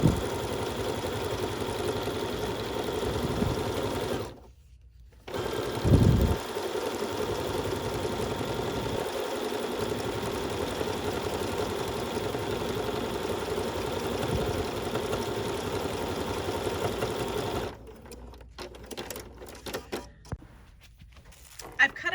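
A Bernina sewing machine runs a decorative leaf stitch, number 473, down the middle of a quilt seam, a steady mid-pitched motor hum with a short pause near the start before it stops near the end; a voice talks over it.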